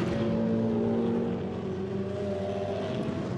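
Racing cars at Nogaro in a Blancpain Sprint Series race, a Lamborghini and a Mercedes SLS, heard as a steady, moderately distant engine drone with sustained harmonic tones, no voices over it.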